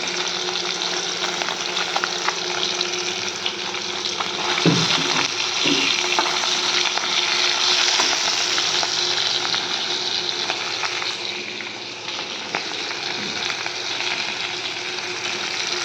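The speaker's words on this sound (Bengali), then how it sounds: "মাছ আমি এখন ভেজে নিচ্ছি" Turmeric- and salt-rubbed fish fry in hot oil, a dense, loud, continuous sizzle with occasional faint clinks, heard up close and steady throughout.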